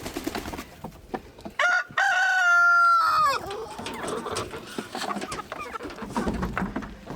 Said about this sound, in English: Gosh, that rooster's so mean over there.